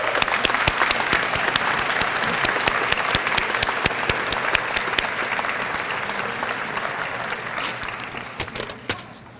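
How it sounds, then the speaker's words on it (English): A large audience at a school employee retirement and recognition ceremony claps steadily for about nine seconds, dense and sustained, tapering slightly toward the end. "Let's give them a round of applause."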